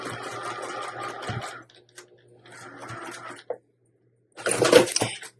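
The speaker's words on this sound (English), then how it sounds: "So what I'm going to do now is just pull these back. And I'm going to top stitch." A sewing machine top-stitches fabric in three short, close bursts separated by quiet pauses, the last burst the loudest.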